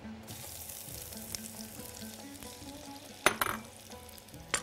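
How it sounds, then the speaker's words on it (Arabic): Julienned onions frying in olive oil for a shawarma and potato tray bake, a steady close sizzle with intermittent stirring scrapes and a sharp clatter near the end, with no talk. "ده زيت الزيتون، وادي البصل الجوليان،"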